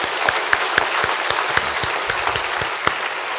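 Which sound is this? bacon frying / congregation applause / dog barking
congregation applause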